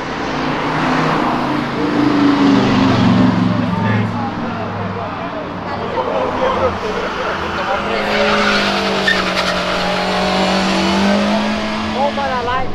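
A turbocharged automatic Fiat Marea is pushed hard off the line, its engine roaring loudly with tire squeal and skidding sounds throughout, while people talk over the noise.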